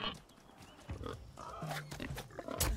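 A pig in the survival video game Nightingale grunts and squeals repeatedly, close and fairly loud, amid game sound effects and rustling.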